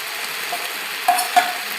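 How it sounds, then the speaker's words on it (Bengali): Chicken meat and spices stirred in a pan, a soft continuous sizzle with two brief sharper scrapes of the utensil near the end. "এবার মাংসটাকে ভালো মতো নাড়তে থাকবো কিছুক্ষণ।"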